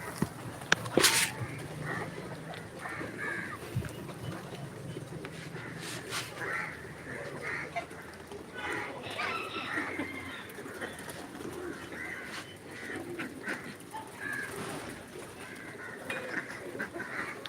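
Pigeons and ducks being fed wheat, with steady nearby cooing and scattered bird calls over a busy background, loudest near the start.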